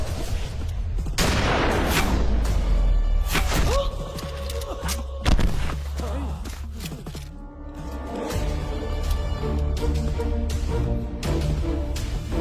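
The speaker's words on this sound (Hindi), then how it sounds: "गोली चलाओ" Bursts of gunfire crack out in a rapid volley during a hunt in an action film scene, with sharp shots and booms echoing over a noisy outdoor background.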